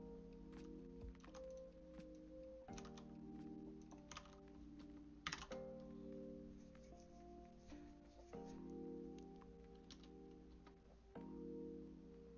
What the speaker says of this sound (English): This is typing.